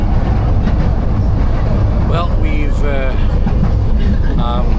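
Interior of the LRT1 light rail train in Manila, with a steady, loud rumble of the moving car and brief squealing wheel tones. A voice speaks briefly over it.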